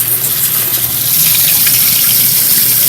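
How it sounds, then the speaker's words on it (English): Rice for chicken biryani is washed in water, a loud, close, continuous gush and slosh of running liquid with no voices. "we're going to wash out the rice"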